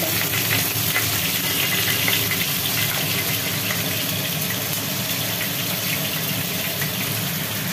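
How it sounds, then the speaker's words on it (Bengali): Loud, continuous sizzling and crackling of chicken frying in hot oil, dense and close, with no voices. "আর এটাই মাংস ভাজা চলছে।"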